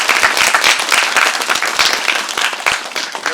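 Audience applause at a Korean film screening Q&A for the movie 'Troll Factory' (댓글부대), a dense, steady burst of clapping filling the hall for several seconds without speech.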